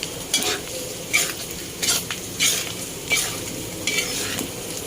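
Bopis, a Filipino dish, sizzling and frying in a pan as a utensil stirs and scrapes it in quick repeated strokes. The sound is close and crisp with a steady sizzle underneath, and no one speaks.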